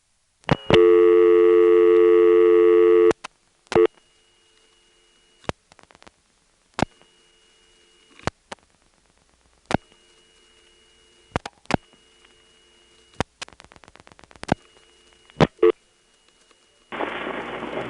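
Dialing four plus the last four digits of the line's own number on a GTE NX2 crossbar telephone exchange from March 1978 in Hahira, Georgia: a loud steady tone, a series of sharp dial clicks with faint tones between, then a busy signal starting at the end.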